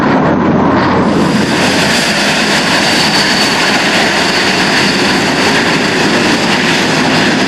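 An F-22 fighter jet's engine roars loud and steady, a broad continuous blast of thrust with no talk over it.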